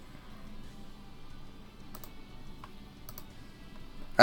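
Someone types on a computer keyboard at an online tabletop role-playing session: soft, rapid, uneven key clicks run close and steady throughout. A louder knock lands at the very end.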